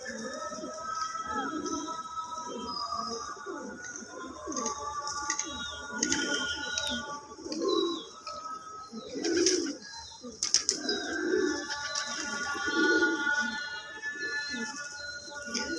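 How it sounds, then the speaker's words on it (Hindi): A flock of fancy-breed pigeons coos continuously on a rooftop loft, with soft overlapping throaty calls, a few chirps and occasional wing flaps above a steady outdoor hum. "बहुत ही माशाल्लाह खूबसूरत यहाँ पर पिजन्स हमारे सामने मौजूद हैं"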